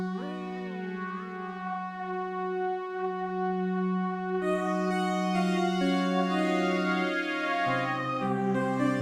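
ASM Hydrasynth Explorer synthesizer tones holding steady pitches that shift in random steps from a random LFO, with delayed echoes trailing behind; smooth, sustained and moderately loud without any voices.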